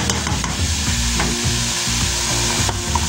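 Salmon with cabbage and other vegetables sizzles loudly in a pan, a steady close-up frying hiss broken by stirring scrapes and knocks, with no voices.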